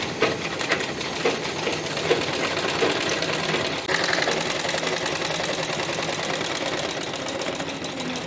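A sewing machine stitches the folded hem of a dhoti salwar, running in a steady, rapid mechanical chatter for several seconds, close and uninterrupted, with no voices.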